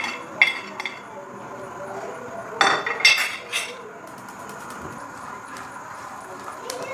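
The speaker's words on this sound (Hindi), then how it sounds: "इनको थोड़ा थोड़ा सा मैं रोस्ट करूँगी जब तक इनकी अच्छी सी सौंधी सौंधी सी खुशबू ना आने लगे" Walnuts, dates, almonds and pistachios being roasted in a pan, with a few scattered clinks and scrapes of a utensil against the metal, the loudest burst in the middle, over a low steady background hiss.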